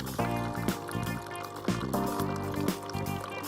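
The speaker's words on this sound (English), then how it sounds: "Lumio will start rinsing for another 30 seconds." Hot water rinsing through a Lumio machine, a close pouring and gurgling flow with intermittent drip-like knocks and a steady tonal hum underneath, no talking.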